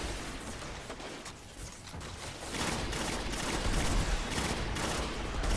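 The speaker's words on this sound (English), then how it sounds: "the gun continues firing after I've released the trigger button" The Bad Juju exotic pulse rifle fires in a video game as a dense, continuous rattle of rapid shots that grows louder partway through, with no talking over it.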